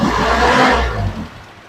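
Amigo engine given a little throttle, a loud close rough revving surge that sputters and rises briefly before dying back toward idle, with no talk.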